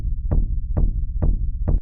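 A raw techno kick drum shaped by the wave shaper mode of Ableton Saturator, four heavy distorted thumps at a steady rhythm with a gritty, sustained low rumble between hits, loud and alone.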